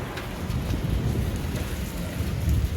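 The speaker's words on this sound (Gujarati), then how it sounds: "વરસાદની શરૂઆત થઈ ગઈ છે" Rain starting to fall at the Akshar temple in Gondal, a steady close hiss of drops with low rumbling noise underneath, continuous and fairly loud throughout, with no one speaking.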